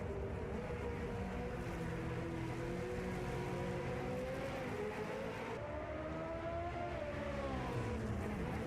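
A vintage Formula 1 style race car engine in a racing game drones steadily at a distance, its pitch rising and falling as it works through gears, loud and continuous with no talk.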